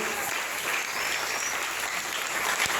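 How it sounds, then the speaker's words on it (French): A church congregation applauding together, a dense, steady clapping that fills the room for a few seconds without a break. "Tu peux acclamer la parole de Dieu."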